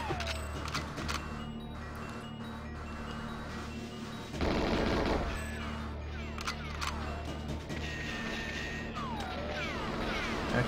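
Gunfire rings out in the GoldenEye N64 game on a street level, repeated shots and bursts over steady game background sound, with a louder crash of fire near the middle.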